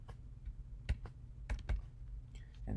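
Keys tapped on a computer keyboard while working in a terminal, a few quiet, irregular clicks and a short burst of keystrokes, close and soft with no talking.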